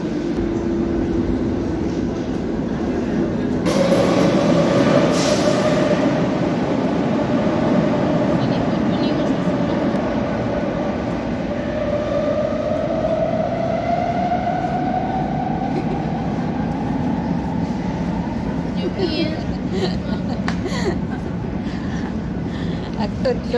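A train rolls past on a nearby track, a loud continuous rumble with a rising tonal whine and some rattling, heard throughout the clip.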